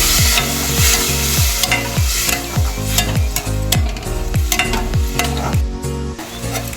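A spoon stirs peanut chutney paste with salt and a little water in a pan on the stove, giving loud repeated scraping strokes in a regular rhythm over a constant close sizzle.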